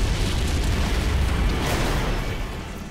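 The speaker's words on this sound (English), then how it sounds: "we're going to be showing an explosion which uses some of the same techniques that we use in film visual effects" A loud, sustained explosion from an Unreal Engine 4 visual effects demo, a dense roaring rumble filling the whole stretch and tapering off slightly toward the end.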